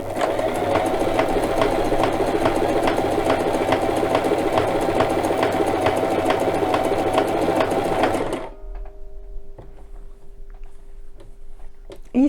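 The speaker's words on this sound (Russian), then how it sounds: "Опускаем лапку. Строчку уже выбрали и шьем." Domestic sewing machine stitching a seam on socks cut from an old knitted sweater, a steady loud rapid whirring run of about eight seconds that stops abruptly, followed by near silence with a few small handling clicks.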